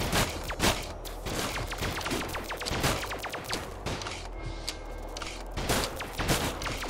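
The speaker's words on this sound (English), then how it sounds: "These shotguns are ridiculous. What if I use both shotguns?" Rapid shotgun blasts in a dark fantasy dungeon video game, a dense string of sharp, loud bangs in quick irregular succession with rumbling low end and no talking.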